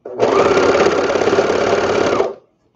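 A sewing machine stitches skirted baby bummies in one loud, continuous run of rapid needle clatter lasting about two seconds before it stops abruptly, close up and alone.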